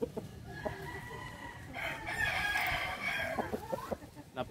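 A young white Aseel rooster, a very large bird only six months old, gives a single drawn-out crow in the middle, with faint farmyard clucking and rustling before and after.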